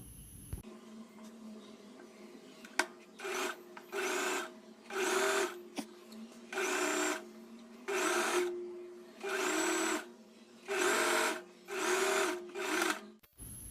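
A sewing machine stitches along the neck side of an angrakha-style kurti in a series of short, even bursts of whirring, separated by brief pauses, close and clear with no talking.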